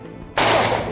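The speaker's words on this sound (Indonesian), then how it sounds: "Tembakan peringatan pun harus diletuskan." A single sharp gunshot cracks out, fired as a police warning shot during a drug raid in Medan, Indonesia. The blast is loud and close and rings on briefly after a quiet moment.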